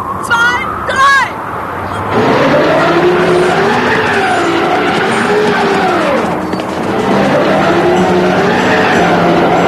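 A car engine revs hard and roars as the vehicle accelerates away, its pitch climbing and falling in repeated sweeps. A brief squeal comes just before, and the loud engine noise then carries steadily to the end.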